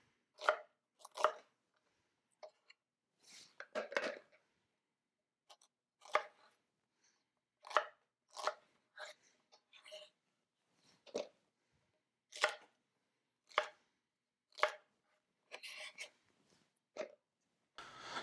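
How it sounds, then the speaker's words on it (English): Knife finely chopping a shallot on a board for a strawberry balsamic vinaigrette, heard as short, crisp, irregular bursts of chopping in small clusters, close and fairly quiet, with no talk. "Taking 1 shallot, finely chopped."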